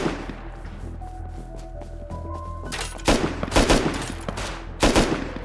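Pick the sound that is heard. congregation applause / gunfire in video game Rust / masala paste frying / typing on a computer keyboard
gunfire in video game Rust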